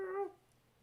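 A pet dog named Kitty gives one short, faint whimpering whine that fades into near-silence.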